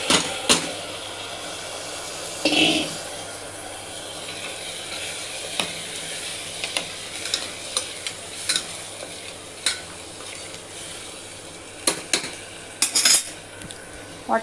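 Black peas are stirred into a pot of pulav, bringing scattered metallic scrapes and clinks of a spoon against the pot over a faint steady sizzle and low background hum.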